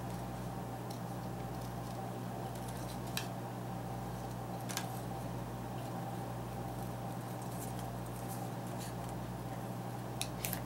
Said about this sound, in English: And just cut that one out quickly.